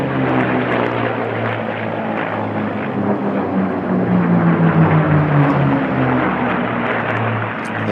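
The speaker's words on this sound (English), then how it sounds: "The Packard-built Rolls-Royce Merlin engine." A propeller aircraft powered by a Packard-built Rolls-Royce Merlin engine drones loud and continuous at an air race, its pitch sliding downward as it passes nearby, with no talk over it.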